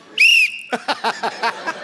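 A single sharp, shrill whistle blast rings out loud and close for about a quarter second, followed by a rapid string of short voiced bursts from a person on a comedy talk show stage.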